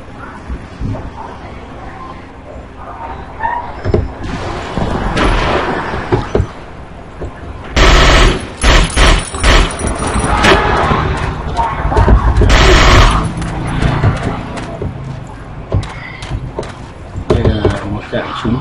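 Gunfire and explosions crack and boom in the video game Battlefield Vietnam, on a map along the Cambodian border, with loud repeated bursts and heavy blasts over someone speaking steadily throughout.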